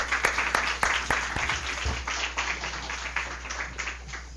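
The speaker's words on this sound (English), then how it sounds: "join me in another round of applause for our three speakers" An audience at a symposium applauds its speakers, with dense, steady clapping from many hands that stays even before tapering slightly.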